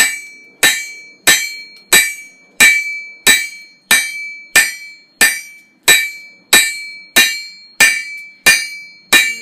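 A hammer flattens hot steel on an anvil while forging a flint striker, sixteen loud, ringing blows struck at a steady, even pace, each with a bright metallic ring that decays before the next, and no talk.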